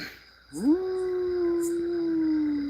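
A human voice imitates a jackal howling at night, a single rising then long sustained wavering howl, fairly close and clear against a quiet background.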